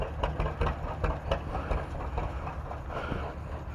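Antique John Deere two-cylinder tractor, a Johnny Popper, running at an outdoor antique tractor festival in Ohio, skipping as it goes; a steady low rumbling engine with uneven popping beats, moderately distant under crowd ambience.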